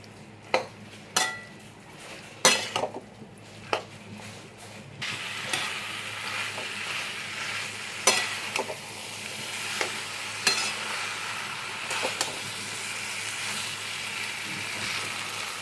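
Mutton fat rubbed with salt and turmeric frying in a pan: a steady close sizzle that swells after a few seconds, broken by sharp, regular scrapes and clinks of a spatula stirring against the metal.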